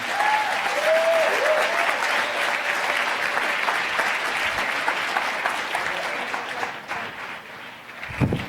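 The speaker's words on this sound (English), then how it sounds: "If we could have a rousing round of applause for this amazing team" A crowd gives a rousing round of applause for a team at a closing ceremony, a loud sustained roar of clapping over eight seconds with faint whoops early on, easing slightly toward the end.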